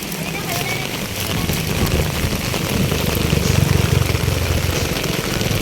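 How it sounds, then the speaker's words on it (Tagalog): Heavy rain falling during a hike, a dense steady broadband roar that builds slightly and persists throughout, close and loud with no clear talk. "Ulan kaayo guys, na ulanan mi."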